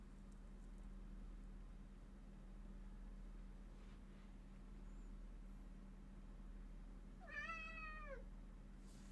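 A cat gives a single clear meow about a second long, close and moderately loud, over a steady low electrical hum with no talking.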